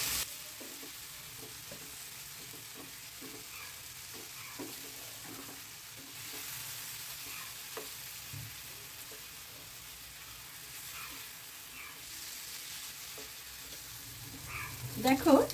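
Fried king prawns added to oil-separated masala for a korma, with steady stirring and scraping in the pan and a soft sizzle running throughout, louder clatter near the end.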